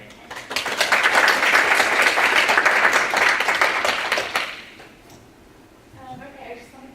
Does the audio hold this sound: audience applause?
yes